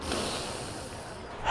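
A voice imitates the sniffing of a mustached game character in the prison-building game Prison Architect, with short snorting, breathy sniffs close up and no speech.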